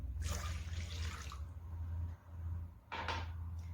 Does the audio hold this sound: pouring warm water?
yes